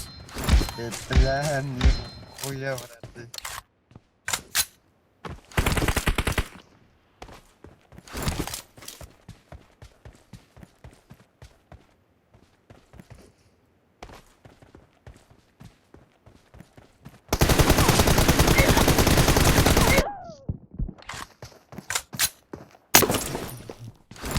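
Gunfire in the mobile battle-royale game PUBG Mobile comes as sharp repeated shots and a few long sustained bursts of automatic fire, scattered among quieter thuds and game sound effects.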